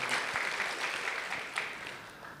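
A small audience at a spiritual gathering claps for a couple of seconds, a soft, fairly distant patter of scattered hands with no voices over it.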